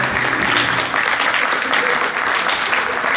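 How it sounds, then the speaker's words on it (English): Loud, sustained audience applause at a high school post-prom show, dense clapping and cheering filling the room steadily without a break. "Give them a big round of applause"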